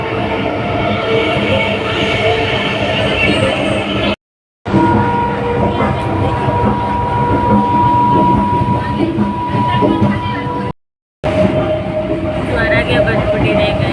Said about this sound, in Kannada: ಸೊ ಹೋಗೋಣ ಬನ್ನಿ ಟ್ರೈನಲ್ಲಿ.